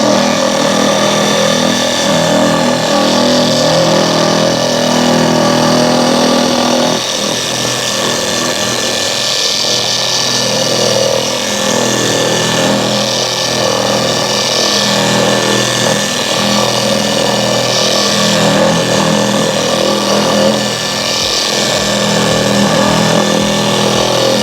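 Lake Country Pad Washer System 4000 machine running steadily under its own weight while cleaning polishing pads, a continuous motorized whir and hum at constant loudness throughout, with no talking.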